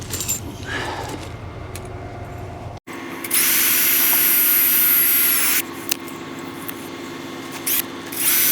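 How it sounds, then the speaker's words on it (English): A power drill bores holes in metal during fabrication work on a J50 crusher, whining loudly and steadily for a few seconds after a stretch of clattering handling noise, then stopping and briefly restarting. "I'll drill 2 more holes."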